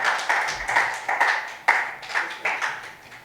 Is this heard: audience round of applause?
yes